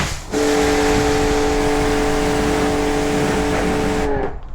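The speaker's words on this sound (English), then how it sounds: "let's jet wash the whole back of that car now" A pressure washer jet sprays a car with a loud, steady hiss and a constant whining pump tone that runs unbroken for about four seconds, then cuts off.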